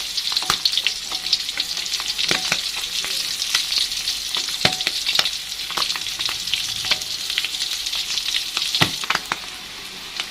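Tuna pieces fry for tongkol balado with a steady, loud sizzle of hot oil and scattered pops and crackles, heard close and on their own with no talking.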